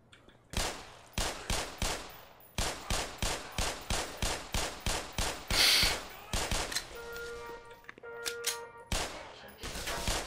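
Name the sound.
pistol gunfire in the video game Black Mesa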